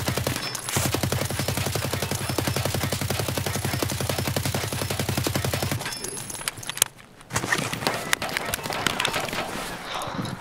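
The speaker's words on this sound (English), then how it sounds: "I just did suppressive fire for you." Rapid automatic gunfire in the shooter game Escape from Tarkov, a dense sustained burst of suppressive fire lasting several seconds, then a pause and scattered louder shots and movement noise.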